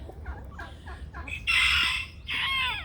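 Chickens in a backyard pen give a run of short clucks before a rooster crows twice, loud and close, with the long crows clearly dominating the end.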